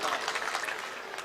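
A mushaira audience claps all at once, a dense, even burst of applause that fills the hall and holds steady for a moment.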